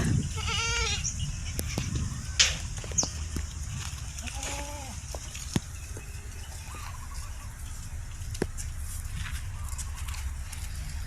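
Pet goats in a pen bleating several times over a steady outdoor background, with a little soft talk and a few faint hoof knocks and clatters.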